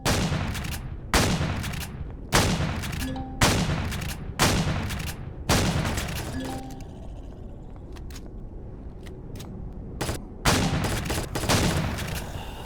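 Gunfire in the space survival game Empyrion Reforged Eden: a series of loud, sharp shots spaced about a second apart, each with a decaying tail, then a quieter stretch with scattered small impacts before two more shots.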